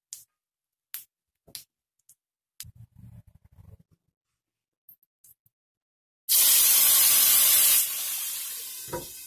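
A few soft clicks and clinks, then fried cumin tempering poured into kadhi bursts into a loud, sudden sizzling hiss that slowly fades and stays steady until the end.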